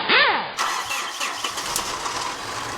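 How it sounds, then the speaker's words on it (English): A Mitsubishi Fuso 4P10 diesel engine cranks briefly, a short whirring starter burst followed by uneven rumbling that fails to settle into a clean idle, heard close. "do we just have a weird sounding engine?"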